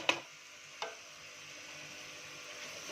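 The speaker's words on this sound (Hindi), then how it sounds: "अच्छे से हमने मसाले को भूनना है। जब भुनाई होगी तो ये प्याज टमाटर सब गल जाएगा।" Ground spices fry quietly with onion and tomato in a pan for an egg curry gravy, a soft steady sizzle opened by two sharp utensil clinks.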